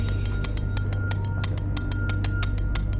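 A magic bell rings as a comic sound effect, with bright tinkling chimes struck in a quick repeating pattern over a steady low hum.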